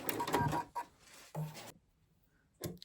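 A sewing machine runs in reverse while stitching white felt for a penguin gift card holder. It gives a few short whirring runs separated by pauses, then one more brief burst after a near-silent gap.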